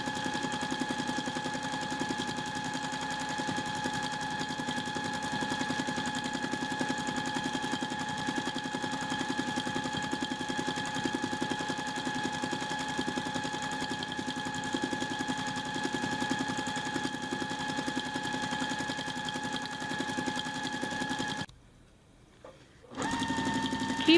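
Sewing machine stitching green thread in free-motion thread painting on a fabric postcard, a loud steady mechanical whirring hum running continuously before stopping briefly near the end, then resuming.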